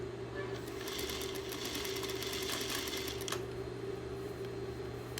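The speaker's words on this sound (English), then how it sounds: "Because I'm sewing onto a curved form, it's a little bit trickier than just sewing onto a flat surface." A sewing machine stitches fabric onto a curved rigid form. Its fast, steady mechanical chatter runs close and loud for the whole span and picks up briefly near the middle.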